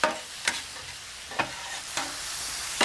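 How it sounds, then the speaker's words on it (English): Onions for fajitas sizzle on a hot griddle with a steady high frying hiss, broken by a few sharp scrapes or stirring taps spaced through the short stretch; no talking. "Time to throw some onions on here."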